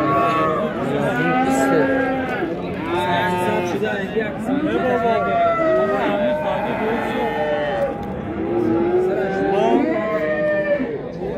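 Cattle at a livestock market moo again and again, some calls loud and close and others further off, over steady crowd chatter and people talking.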